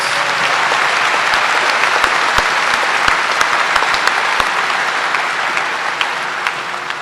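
A high school graduation audience applauding magna cum laude graduates, loud sustained clapping from a large crowd with occasional sharp individual claps standing out.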